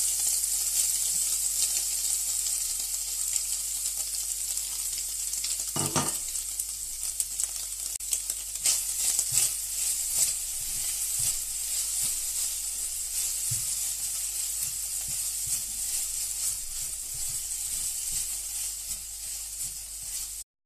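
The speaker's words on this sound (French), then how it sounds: "En premier, nous allons faire griller du coup les lamelles de tofu." Strips of tofu grilling in a pan, giving a steady bright sizzle with faint crackles and a few soft stirring knocks, heard alone throughout.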